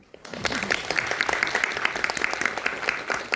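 Audience applause at a film festival talk, a steady burst of many hands clapping that rises quickly and holds at moderate volume for a few seconds.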